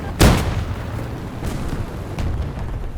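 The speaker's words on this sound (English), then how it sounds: "And the bomb did nothing." A bomb explosion in the video game War Thunder, with a Chi-Ha tank and Ki-21-Ia bomber in play, sounds as one loud, sharp blast that fades into a low rumble, followed by softer distant thuds amid the game's ambient noise.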